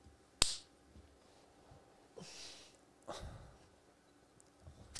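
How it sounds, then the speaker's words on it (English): A single very loud, sharp hand clap cracks out near the start during a live bourbon-tasting game between two men, followed by quiet breathy rustles and faint shuffling. "that was the loudest clap I've ever done in my life"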